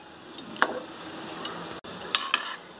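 Quiet sizzling of mutton in a pan for Arcot-style gravy, with a few scraping stirs of a spoon at intervals, no talking.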